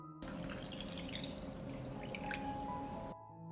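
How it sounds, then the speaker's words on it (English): Water poured into canning jars filled with plums to cover the fruit, a soft steady trickling and splashing for about three seconds, close and quiet, with no talk. "I pour water into the jars to cover the plums."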